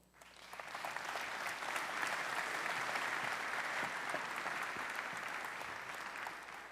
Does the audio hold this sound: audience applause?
yes